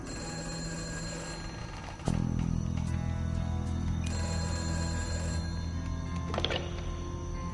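A telephone rings indoors, a repeated bell-like trill that sits fairly faint over a steady background hum, with no one talking.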